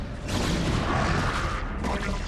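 A dense, loud explosive rumble with crackling bursts as a Protoss photon cannon is destroyed in StarCraft Remastered amid battle noise.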